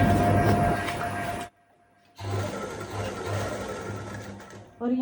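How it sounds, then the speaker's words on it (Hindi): Sewing machine running in close, steady bursts while stitching a saree fabric diagonally downward, with a brief pause in the middle before the motor hums again. "यहीं से हम जो सिलाई लगाएंगे वो थोड़ी हल्की सी तिरछे में नीचे की ओर इस तरह से लगाना शुरू करेंगे"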